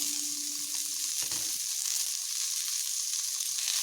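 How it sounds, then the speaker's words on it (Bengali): Cut pumpkin pieces frying in a pan, a steady close sizzle with a brief stirring scrape partway through, no talking. "এবার আমি কুমড়োগুলোকে একটু ভালো করে ভেজে নেব।"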